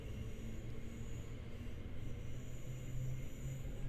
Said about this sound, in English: Loving the train. Absolutely loving it. Sounds great, feels great.